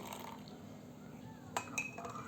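A spoon stirs sugar into a cup of tea, giving a couple of faint, light clinks against the cup in a quiet room.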